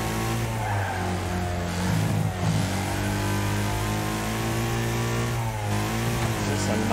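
Steady car engine drone in a driving video game, holding a strong, continuous hum with slight pitch shifts and tire noise, loud and close, with no talking.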